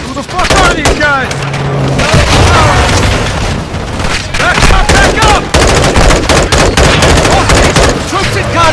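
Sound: gunfire and explosions in Call of Duty Modern Warfare 2 video game

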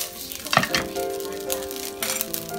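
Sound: supermarket yakisoba noodles frying in a pan over medium heat

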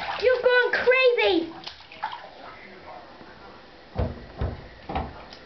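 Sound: child splashing water in a bathtub

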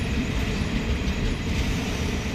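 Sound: train arriving at a station at night

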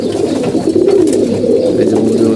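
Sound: pigeons cooing

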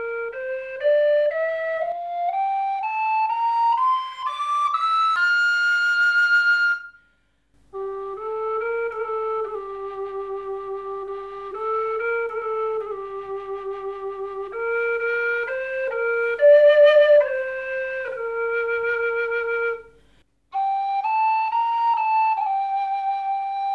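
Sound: sopilka, Ukrainian wooden flute, playing low notes

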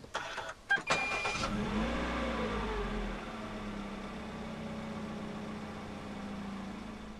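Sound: Perodua Bezza 1.3 car engine start-up via push button

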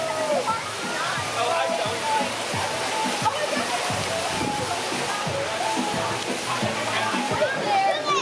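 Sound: waterfall at a lazy river ride

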